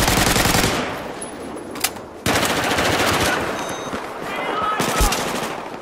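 Sustained automatic gunfire from a machine gun in the Battlefield 4 video game, a loud dense rattle running through the whole stretch with brief gaps and sharp individual shots standing out.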